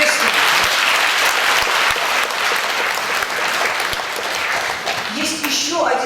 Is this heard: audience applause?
yes